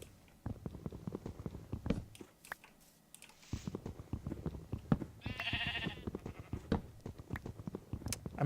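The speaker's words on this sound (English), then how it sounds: "I'm just glad this island's populated with sheep rather than cows" Sheep in a survival crafting game on an island bleat in several short, thin calls under a busy mix of game sounds and chewing-like clicks, one brief tonal burst standing out near the middle.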